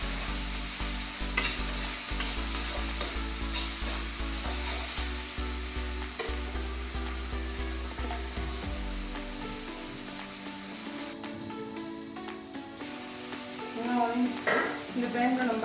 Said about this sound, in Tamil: நல்லா ரெண்டுமே நல்லா பேஸ்ட்டாக வதங்கணும்.